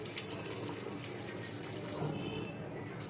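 Water runs steadily from a kitchen tap to rinse boiled pasta, a constant soft splashing hiss heard fairly quietly and close.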